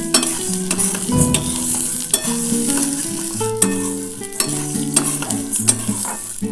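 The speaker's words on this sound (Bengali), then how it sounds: "একটু হালকা করে ভেজে আমি তুলে নেবো।" Mung beans fry lightly in a little oil in a wok, giving a steady soft sizzle with occasional stirring scrapes, partly masked by melodic background music.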